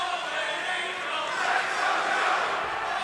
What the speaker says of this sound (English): As we hear the crowd